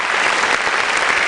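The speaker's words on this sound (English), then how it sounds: "Please a round of applause again" Applause from the audience at a youth leadership debate final as judges are invited to their seats: dense, loud, continuous clapping from a crowd, close and unbroken for the short moment.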